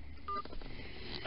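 A phone keypad gives two short dialing tones in quick succession, faint and thin over light line noise.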